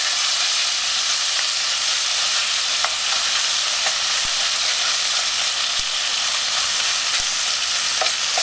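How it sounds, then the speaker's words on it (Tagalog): Thinly sliced beef for pepper steak stir-fried over high heat, with a loud continuous sizzle and hiss of the hot pan and occasional sharp clinks of the utensil, and no talking. "Tapos ituloy lang natin yung pag-stir fry."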